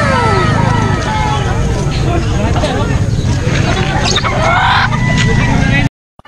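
Chickens and small birds chirp and cluck throughout at a busy pet market in Angeles City, under loud crowd babble and nearby voices, until the sound cuts off abruptly near the end.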